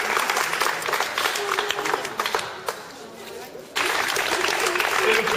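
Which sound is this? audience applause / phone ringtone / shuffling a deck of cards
audience applause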